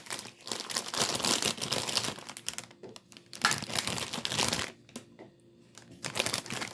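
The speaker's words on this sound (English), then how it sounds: "So I'm going to begin taking everything out of the product packaging." Plastic and paper product packaging crinkles and crumples as gift basket items are unwrapped, in near continuous rustling bursts with a few short pauses, close to the microphone and with no talking.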